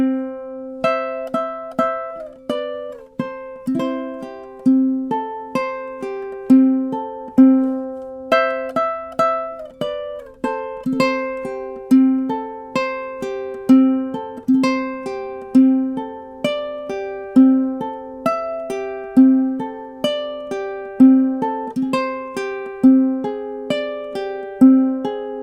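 A ukulele plays the melodic B section of a gentle beginner song, plucked notes over a repeating open-string pulse in a steady rhythm, close and clear with no talk.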